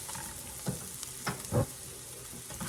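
Rice with beef, onion and mushroom toasts in a skillet. Constant frying hiss is broken by a few distinct stirring scrapes, the loudest near the middle.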